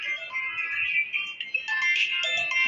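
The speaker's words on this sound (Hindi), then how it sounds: "और बाकी जब फोन बज रहा है" A mobile phone plays a bright melodic ringtone, clear and near, ringing continuously on its own for a few seconds.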